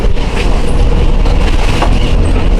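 An Albanian countryside train heads north toward Shkoder with a loud, continuous low rumble and roar of rolling stock close by. The noise is dense and unbroken throughout.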